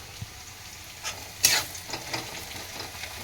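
Onions and tomatoes fry in oil while being stirred, giving a steady low sizzle broken by sharper scraping stirs and one loud hissing burst, close and without talk.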